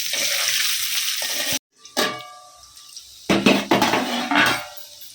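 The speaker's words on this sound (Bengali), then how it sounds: "আমি নুন হলুদ মেখে ভাজছি তিতোটা যেন কম লাগে" Bitter gourd pieces coated in salt and turmeric fry in a pan for shukto. Bursts of sizzling alternate with utensil clatter and short silent gaps, all up close.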